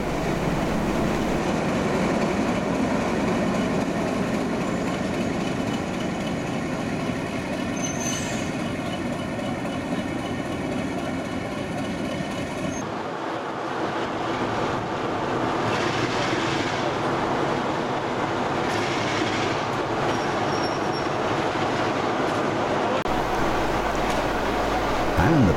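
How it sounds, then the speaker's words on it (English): A Class 45 diesel locomotive and the D015 Valiant diesel engine pull away together during a diesel gala, with a steady, loud engine drone and rumbling wheels on rails that shifts midway as the train moves off. "D015 Valiant then heads back into the station to tail with the Class 45 on its way to Haywood."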